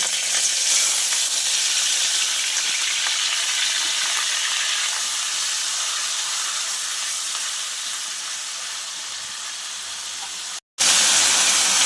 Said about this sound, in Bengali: কড়াটা গরম করে নিয়েছি চার পাঁচ চামচ তেল দিয়েছি এইবারে আমি পেঁয়াজ বাটাটা দিয়ে দেব